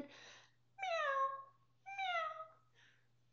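A cat meows two clear, drawn-out times with falling pitch, close and distinct over a faint steady hum, in a children's story setting.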